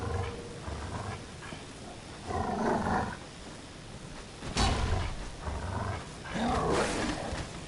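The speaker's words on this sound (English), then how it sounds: "I hear more wolves and I'm just going." Wolves in Dark Souls III's Ashes of Ariandel snowfield growl and snarl in several rough bursts, near and fairly loud, with harsh roaring surges between quieter stretches of game ambience.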